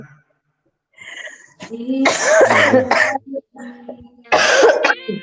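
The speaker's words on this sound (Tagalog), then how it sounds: "Kasi inuubo silang dalawa" Several harsh coughs and throat-clearing bursts in quick succession, close by, mixed with short bits of talking.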